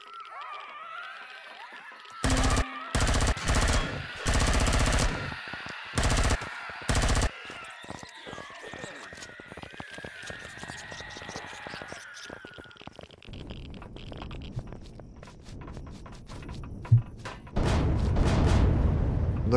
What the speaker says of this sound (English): I think we're gonna go with the pulse rifle.